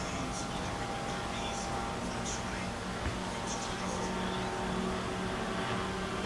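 A 6 horsepower racing power boat engine rounds the top turn at a river power boat race, a distant steady buzzing drone under crowd ambience and faint commentary.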